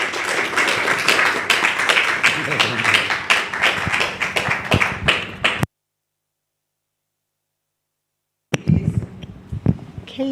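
Audience applause at a Universal Peace Federation gathering, rapid overlapping claps for several seconds that stop abruptly into silence before a faint murmur of room noise returns.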